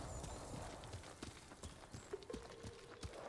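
Horse hooves clip-clop in the video game Ghost of Tsushima, a quiet, fairly quick run of hoofbeats with a brief whinny-like tone partway through.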